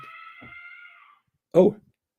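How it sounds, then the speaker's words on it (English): A single short, loud cat yowl bursts out near the end after a quiet pause, following a stretch of faint tonal background sound. "I think Mrs. Higgins is in trouble with the cat"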